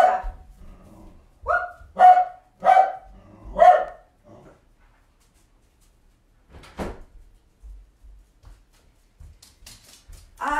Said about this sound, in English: See if we can get her to come and talk to us instead of whoever it is she's barking at.